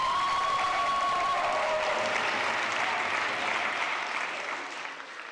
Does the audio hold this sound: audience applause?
yes